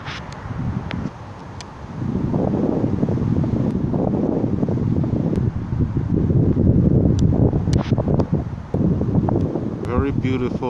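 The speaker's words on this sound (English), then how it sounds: "Very beautiful and windy day." Steady wind roars and buffets the microphone over open land in North York, Ontario, with a low rumbling gust that swells and stays loud throughout.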